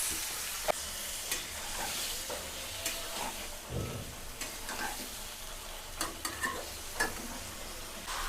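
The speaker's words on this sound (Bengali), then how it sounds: "এখন মাংসটা দিয়ে দিলাম। এখন কাজ হচ্ছে সুন্দর করে কষায় নিতে হবে" Meat stir-fried kosha style in a pan with fried chopped onions: a steady close sizzle broken by repeated sharp spatula scrapes and knocks against the pan.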